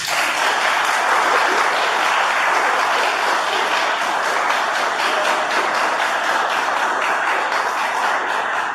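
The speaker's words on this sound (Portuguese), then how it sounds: "eu peço a todos que o cumprimentem com uma salva de palmas" Dense, steady applause from an audience at a tribute event in Curvelo, Brazil, sustained at an even level for the whole stretch with no voices on top.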